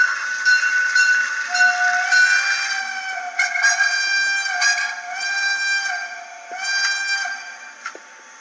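Sound decoder from a Rivarossi HO scale DB Br55 model steam locomotive, factory fitted by Zemo: tonal whistle-like chuffs and hisses rise and fall in repeated bursts over several seconds, thin and clean against a silent background.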